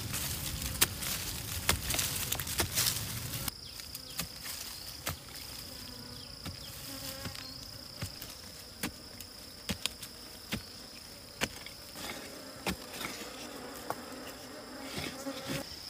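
Honeybees swarming at the entrance of an old wild hive dug into the ground, a thick continuous buzzing close by with scattered sharp ticks and knocks, no speech.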